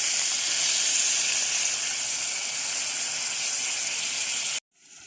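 Aromatics drop into about a tablespoon of hot coconut oil for a cabbage stir fry, giving a loud, steady sizzling hiss that runs continuously and then cuts off abruptly near the end.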